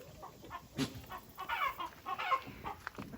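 Hens cluck in short, scattered bursts at moderate distance, a few overlapping calls with no talking.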